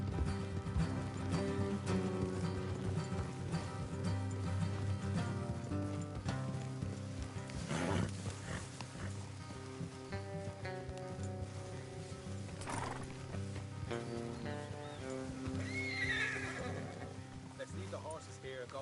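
Horses neigh and whinny over steady hoofbeats, with a swelling orchestral score playing throughout, in the video game Red Dead Redemption 2.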